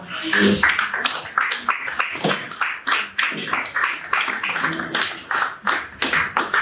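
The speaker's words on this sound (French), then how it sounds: "Lorsqu'il avance, nous l'accompagnons par des applaudissements." An audience at an album launch ceremony claps in a steady rhythmic beat to accompany the maestro as he walks forward, the claps pulsing evenly at close range.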